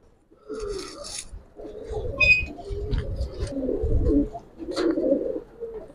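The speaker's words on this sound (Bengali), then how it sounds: "ওরে ভাই কবুতর মাশাআল্লাহ" An old-breed Giribaz pigeon coos nearby in repeated low, throaty bursts over several seconds, with a few sharper chirps and rustles between the calls.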